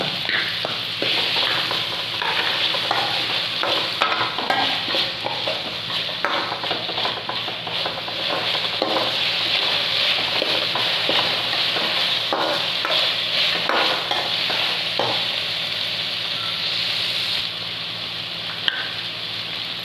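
Ginger and garlic frying in a pan with softened onions for Mangalore-style chicken pepper. A dense, steady sizzle runs throughout, with scraping stirs and occasional utensil taps close by and no voices.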